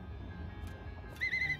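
A short warbling whistle from the companion-calling whistle in The Legend of Zelda: Breath of the Wild sounds near the end over quiet game ambience.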